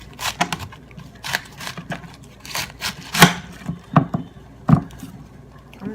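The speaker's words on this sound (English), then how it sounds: "we're going to cut the cabbage" A knife chops cabbage for juicing, giving a series of irregular sharp thuds on a cutting board, close and clear, with quiet pauses between cuts.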